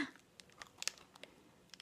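Biting into a crunchy round cookie, a quiet close crunch followed by a few small crackling bites and crumbles, faint and brief.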